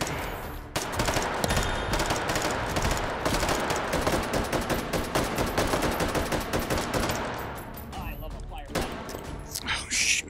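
Sustained rapid automatic gunfire in the VR shooter Hot Dogs, Horseshoes & Hand Grenades, a dense loud stream of shots for several seconds that thins into scattered bursts near the end.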